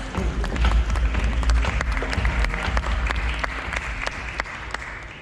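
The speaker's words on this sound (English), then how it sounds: "Let's give him a big round of applause." Loud, sustained applause from a seated audience at the Ferrari F8 Tributo launch event, dense clapping holding steady for several seconds and tapering slightly toward the end.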